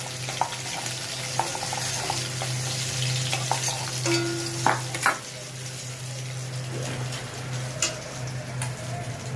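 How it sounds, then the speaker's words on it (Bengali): Large tiger prawns are lifted out of hot frying oil, with steady sizzling and bubbling throughout and occasional light clicks of a utensil against the pan. "এই বাগদা চিংড়িগুলো আমি ভেজে নিয়েছি। এই যে তুলছি।"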